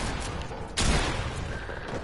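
A single heavy gunshot in a video game bursts out loudly midway, standing out sharply above a steady background rumble.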